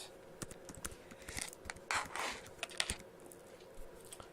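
Fingers tap out a command on a computer keyboard, sending a close, irregular run of crisp key clicks in short bursts, with nobody speaking.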